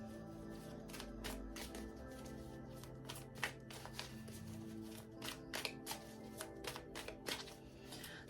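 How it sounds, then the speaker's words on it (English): Oracle cards are shuffled and drawn by hand in a steady run of crisp riffling flicks, close and fairly quiet, with a faint song playing softly in the background. "Let's get another card out to expand on this idea."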